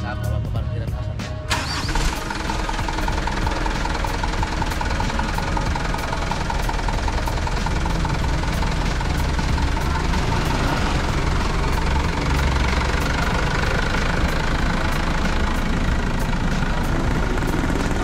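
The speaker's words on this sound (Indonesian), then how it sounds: "Sekarang kita dengerin suara mesin" A newly bought truck, parked before its cargo bed is fitted, starts and then idles loud and close with a steady, rough, low rumble and a rapid ticking knock throughout.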